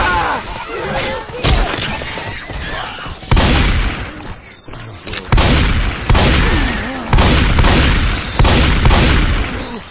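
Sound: gunfire in the video game Left 4 Dead 2

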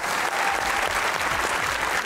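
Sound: audience applause

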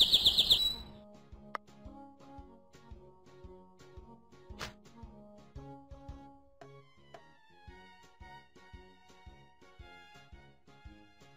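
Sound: birds chirping

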